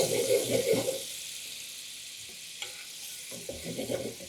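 Lemon butter sauce sizzles and is stirred briskly in a pan, a loud burst of frying and scraping at first that settles into quieter, intermittent stirring and bubbling.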